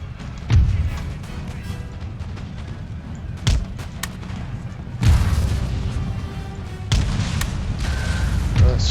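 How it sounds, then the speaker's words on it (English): Cannon and artillery fire in Empire: Total War, several heavy booms spaced a few seconds apart over a constant background battle din. "Let's shut that cannon up."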